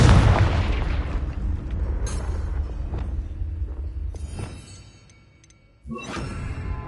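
A Confringo fire spell exploding in the game Hogwarts Legacy, a heavy booming blast at the start that rumbles and fades over several seconds, followed by a sharp crackling burst near the end.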